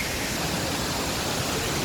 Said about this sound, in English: got a waterfall in the background